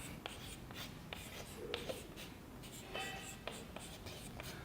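Chalk or marker writing on a board during a physics class, a series of short scratchy strokes and taps in an uneven rhythm against a quiet room.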